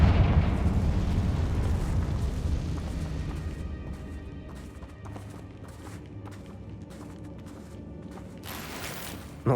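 In Hogwarts Legacy, the Confringo blasting spell sets off a loud, booming explosion that rumbles and slowly fades over several seconds, with a rattling, crackling tail and no talk over it.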